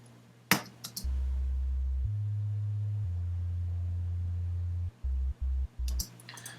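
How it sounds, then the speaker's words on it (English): A bare sine-wave sub bass from an EXS24 sampler with no sample loaded plays as a steady low tone, shifting pitch in a few long held notes, then three short stabs, with faint clicks at the start and end. "in EXS24, if you don't load a sample, it'll just produce a sine wave, which is just bass, just one sine wave"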